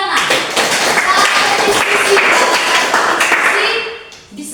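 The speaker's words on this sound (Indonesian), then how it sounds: "Oke, tepuk tangan." A classroom group claps loudly and continuously for several seconds, dense overlapping claps close to the microphone that fade out near the end.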